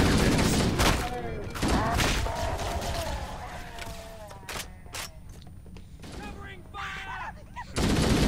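Rapid weapon fire from Halo CE, a loud dense burst of repeated shots that thins into scattered sharper cracks and echoes, then swells back into heavy fire at the end.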